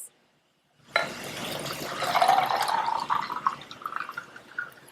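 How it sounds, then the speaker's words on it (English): Strawberry lemonade pours over a cup of ice after a moment of silence, a steady close liquid splash and trickle that rises in pitch as the cup fills, with faint clinks near the end. "or you can pour it over a nice cup of ice."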